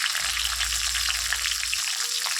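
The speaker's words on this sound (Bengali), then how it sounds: "আদাটা আমার ভাজা হয়ে গেছে এবার দিয়ে দিলাম টমেটো" Tomatoes tossed into a pan of frying ginger give a steady, dense sizzle and crackle of hot oil, close and continuous with no speech.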